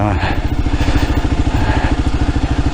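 A Kawasaki KLR650 adventure motorcycle's single-cylinder engine thumps in a quick, even rhythm close by, loud and rough.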